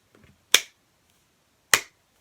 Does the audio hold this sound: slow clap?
yes